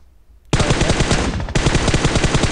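Automatic gunfire in a video game death-cam replay: after a quiet half second, a loud rapid machine-gun burst erupts and continues nearly unbroken for about two seconds, close and dominant with no talk.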